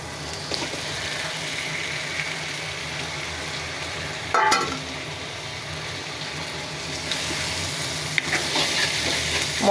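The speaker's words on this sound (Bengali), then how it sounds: "মশলার সাথে মাংসটা একটু ভেজে নিব আবার" Chicken pieces fry in a hot pan with cardamom, black pepper, cloves and panch phoron for a scallion chicken dish, giving a steady, close sizzle with a few louder spits and stirs, and no talking.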